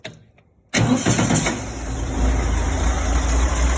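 A nitro OS engine in an RC car starts abruptly after a moment of near silence, then settles into a loud, steady, buzzing run.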